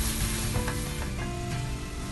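Chopped onion frying in a pan with ginger garlic paste for palak paneer, a steady loud sizzle with faint stirring, no talk.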